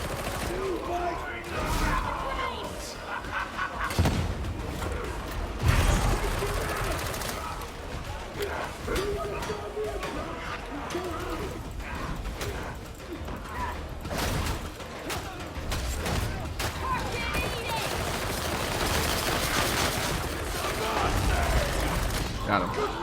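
Auto pistol fire in Warhammer 40,000: Darktide, scattered bursts of shots amid a busy battle with other mechanical clatter and booms, mixed under ongoing talk.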